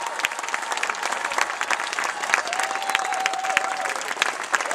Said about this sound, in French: Je vous demanderai que vos derniers applaudissements aillent à toute mon équipe